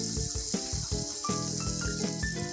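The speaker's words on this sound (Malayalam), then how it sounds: "ഇനി ഇതിലേക്ക് മിക്സി കഴുകിയ വെള്ളം," Water left from rinsing a mixer jar hits a hot pan of green chilli, ginger and garlic masala, a continuous hissing sizzle heard under background music.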